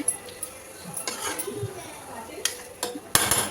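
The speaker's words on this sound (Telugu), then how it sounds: "ఇలా మంచిగా మొత్తం కలిసేలాగా కలిపేసి" Prawn curry is stirred in oil in a pan, a spoon clinking and scraping against the metal in scattered bursts, with a louder clatter of strokes toward the end.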